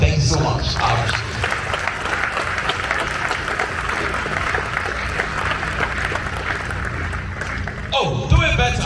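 An audience claps together at a forex trading class, a dense, steady wash of applause lasting nearly the whole stretch before cutting off abruptly, with a voice talking over it.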